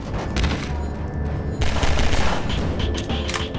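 Rapid bursts of gunfire in Half-Life 2, loud sharp shots in quick clusters with short gaps between volleys, close and dominant throughout.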